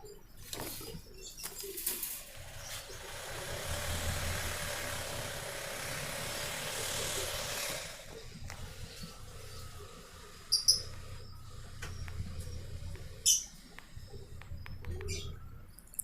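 Pakistani breed pigeons, a pure young adult, coo softly in a loft. The cooing is low and rhythmic and carries on for most of the stretch, with a couple of brief sharp sounds near the end that may be wing flaps.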